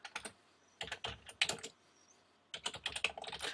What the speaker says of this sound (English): So I'm just typing in the new information on top of that one.